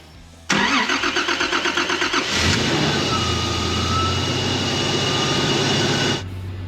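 A wagon's engine cranks with a rapid, rhythmic starter chatter, catches and settles into a loud, steady idle nearby, then cuts off abruptly near the end.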